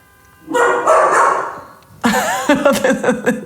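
A dog barks and yips close by in a loose run of sharp barks, with a bit of whining between bursts.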